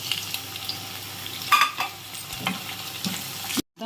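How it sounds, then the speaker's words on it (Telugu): Tomatoes are added to onions frying in a pan, producing a steady sizzle with stirring clatter and a louder burst partway through before the sound cuts off abruptly. "ఇప్పుడు ఇందులో టమాటీలు వేసుకుందాం."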